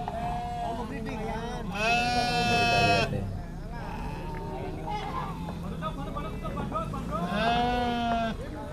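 Javanese Randuan breeding does at a livestock trading spot bleat loudly twice in long, wavering calls, over constant nearby conversation and general crowd hubbub.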